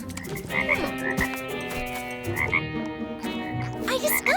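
A cartoon frog croaks repeatedly in a children's animated series, its loud, close croaks recurring in irregular bursts over a busy, tonal soundtrack.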